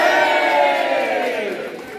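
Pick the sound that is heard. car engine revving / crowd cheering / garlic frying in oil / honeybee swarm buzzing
crowd cheering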